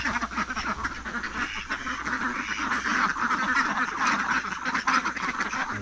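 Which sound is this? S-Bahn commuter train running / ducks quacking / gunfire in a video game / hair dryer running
ducks quacking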